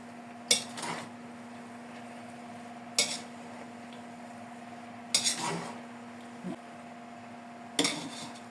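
Cabbage and pancit noodles cooked in a pan with utensils clinking against the metal in a few sharp, separate bursts, and a faint sizzle and steady hum between them.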